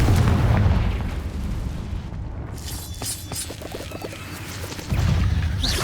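Confringo fire-blast spells cast in the Hogwarts Legacy video game, loud booming explosive bursts opening and closing the stretch, with crackling, rumbling impact noise between them and no talking.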